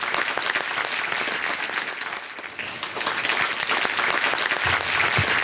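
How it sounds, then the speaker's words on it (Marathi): An audience at a Mangalagaur festival event in India gives dense, sustained applause for a performer, loud and continuous throughout, with a few low thumps near the end. "तर जोरदार टाळ्या आकांक्षा कदम यांच्यासाठी झाल्या पाहिजेत."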